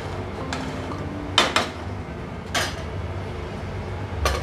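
A pot lid lifted off a simmering soya chunks masala curry with tomato puree, giving a few sharp metallic clanks and scrapes against the rim, fairly close, over a low kitchen hum.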